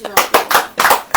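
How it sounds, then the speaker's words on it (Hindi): Congregation clapping at a church service, a few quick bursts of applause close by, short and loud, with talk mixed in between. "ताली बजाइए"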